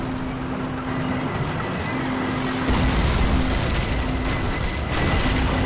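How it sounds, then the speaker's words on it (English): A tank grinds through rubble in the Call of Duty 2003 video game, a steady heavy engine rumble and clanking that swells into a louder, rougher roar about halfway through. "We've got a tank, mate."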